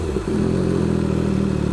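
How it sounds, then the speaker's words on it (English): An MV Agusta F3 800 motorcycle engine revs loud and close, a steady rasping drone that echoes off nearby walls after a brief dip in throttle. "You can literally hear the sound of the engine reverberating off the walls of"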